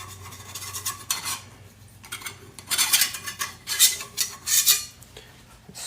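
Scraping and clinking of a utensil working cornbread loose from a very hot cast iron pan fresh from a 425 degree oven, with a run of bright scrapes that grow busier and louder toward the end.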